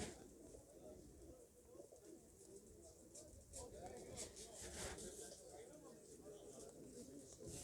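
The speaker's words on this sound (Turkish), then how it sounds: "Burada da yine karışık kuşlar var." Pigeons coo softly in a low, steady murmur at the Halkalı bird market, with faint chirps and muffled voices in the background.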